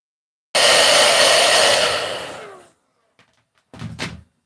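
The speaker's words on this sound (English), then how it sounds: "I'm going to take the hairdryer out, and I'm going to just dry this up a little bit." Hair dryer blowing on a Christmas card craft, a loud steady whoosh for about two seconds that winds down as it switches off, followed by a couple of soft thuds.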